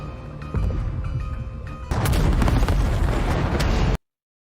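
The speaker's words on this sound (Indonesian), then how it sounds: "Namun kapal patroli sudah meledak terlebih dahulu" A patrol boat explodes in a loud, rumbling blast after a tense buildup, filling the sound with a heavy roar of debris and noise before cutting off abruptly.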